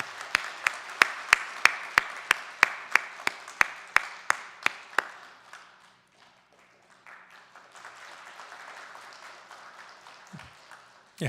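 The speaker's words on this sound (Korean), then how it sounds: "우리 박수로 환영하도록 하겠습니다" A church congregation at a Sunday morning worship service claps in welcome, with evenly spaced claps in a steady unison rhythm for about five seconds before thinning into soft, scattered clapping and fading to near quiet.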